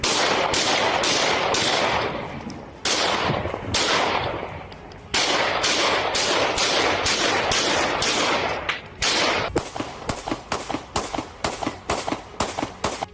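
Rapid gunfire outside a singer's house in Vancouver, British Columbia, Canada: long, loud volleys of sharp, crackling shots, then a string of separate shots toward the end.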